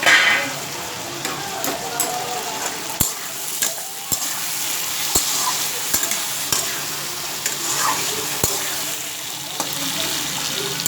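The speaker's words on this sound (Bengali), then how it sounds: "মাঝখানে আরেকবার নাড়িয়ে দেবো।" Mourola fish fried with potatoes and eggplant in a pan, stirred midway with radhuni spice: a steady broadband sizzle runs throughout, broken by sharp scraping clicks of the spatula roughly once a second, close and fairly loud, with no talking.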